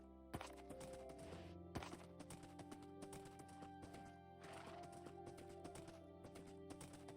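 Horse hooves clip-clop in a video game, a series of sharp rhythmic taps in steady groups, quiet and close over layered synthetic background tones.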